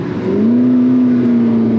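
A mid-engine McLaren MP4-12C revs steadily from close range, its engine note rising briefly then holding a loud, sustained drone throughout, with no voices.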